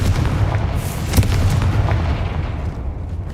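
A Confringo blast curse explodes in the game Hogwarts Legacy, a sharp booming burst over a dense low rumble that carries steadily through the moment with no talk.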